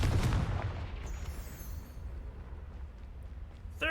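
A Confringo blast spell goes off in the video game Hogwarts Legacy, a loud booming fiery burst that rumbles and fades over a few seconds with no talking.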